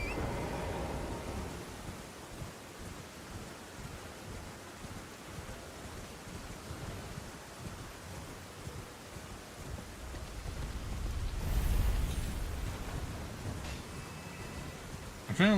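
Steady rain from Elden Ring, a continuous broadband wash of falling water with a low rumble swelling near the end, carrying along evenly under faint background sound.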